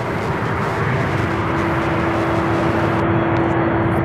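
An airliner takes off at Louisville International Airport with a steady, sustained engine roar and a constant whining tone running through it, heard at moderate distance without talk.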